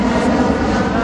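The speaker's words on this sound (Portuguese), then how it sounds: "O avião passa o tempo inteiro," A fixed-wing airplane engine drones steadily overhead at an outdoor training session, a broad continuous rumble filling the short clip without breaks.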